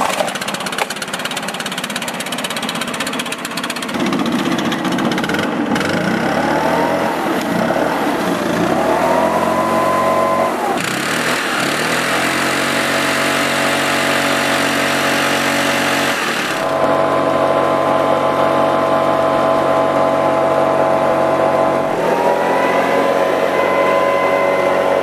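A Stihl BR500 4-MIX leaf blower engine with a carburetor fault runs loud and close for a long stretch. It drones at a steady idle, then revs up and drops back in several uneven swells.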